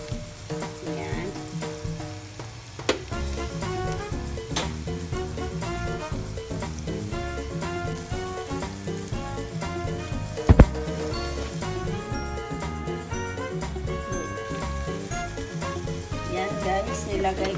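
An egg frying in a pan gives a steady sizzle under background music, with a few sharp clinks and stirring sounds.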